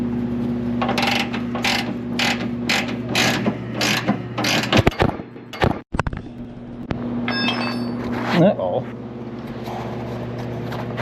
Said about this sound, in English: I'd be able to get a ratchet with a short socket for a while until it gets too deep for the short socket